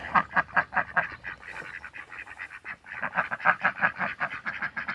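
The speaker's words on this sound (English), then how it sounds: "Geese." Backyard geese let out a rapid string of nasal honks, close and clear, in choppy bursts with a brief lull midway.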